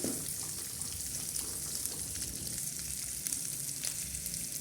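Onions frying in a pan as part of preparing a chickpea dish: a soft, steady sizzle and crackle, fairly quiet and continuous, with no talking.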